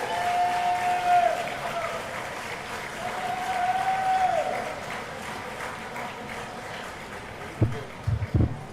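Steady crowd applause fills the space, with a sustained tone rising above it and a few sharp knocks near the end.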